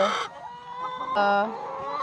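Chickens cluck in bursts inside a coop nest lined with lemongrass, two loud close squawking calls separated by a quieter pause.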